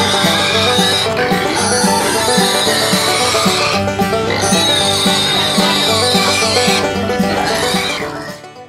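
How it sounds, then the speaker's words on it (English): Loud, close squealing and grunting from pigs, repeated bursts of high-pitched squeals over a busy, noisy background that fades at the end. "two noisy pigs"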